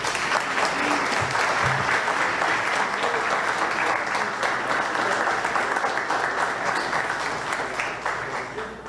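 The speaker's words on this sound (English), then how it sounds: "join me once again in a warm applause to Professor Buckeridge" Warm, steady applause from a lecture audience for Professor Marcos Buckeridge after a talk on bioenergy, a dense, even clapping that runs throughout and fades slightly at the close.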